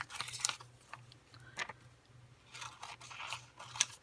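Scissors snipping apart sheets of rainbow vinyl, with a few crisp crunchy cuts and soft rustling close by over a low steady hum.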